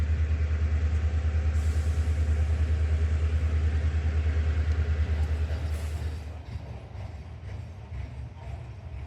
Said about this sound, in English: A local train, slowly heading my way.